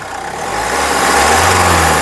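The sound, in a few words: Mahindra SUV diesel engine idling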